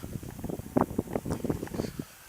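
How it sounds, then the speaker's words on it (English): Strong gusts of wind on the summit of Mt Rinjani buffet the microphone in loud, uneven rushes that swell and fade across the whole stretch, then drop to a steady low hiss at the end. "the gust of wind is just smacking on my face"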